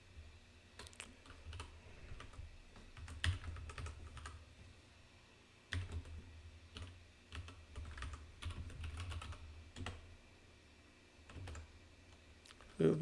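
Rust code is typed on a computer keyboard in quick bursts of close key clicks with short pauses between them, and one heavier keystroke comes near the end.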